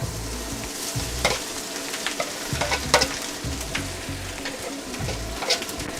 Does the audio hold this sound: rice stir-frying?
yes